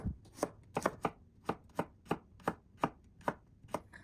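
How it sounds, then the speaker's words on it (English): A knife slices through a whole head of garlic on a cutting board in about a dozen crisp, evenly spaced chops, close and clear with no talking. "Slice up 1 whole head of garlic."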